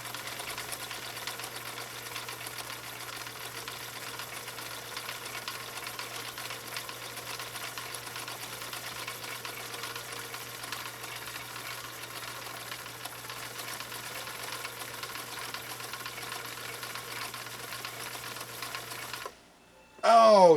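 A 1960 Viking Husqvarna CL-21A sewing machine runs stitch number 4 on cam B, humming and clattering steadily and evenly up close for about nineteen seconds before stopping abruptly, followed by a short rustle.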